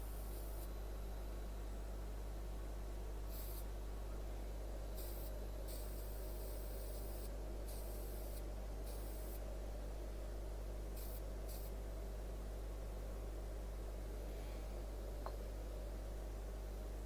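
Lacquer sprayed onto a woodturning piece, short bursts of hissing spray starting and stopping several times over a steady low hum, faint and close, no talk.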